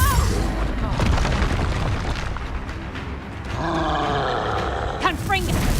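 Confringo fire-blast spell from Hogwarts Legacy, a booming, roaring impact with creaking mechanical rumble, loud and close, amid combat clamor and a shouted voice.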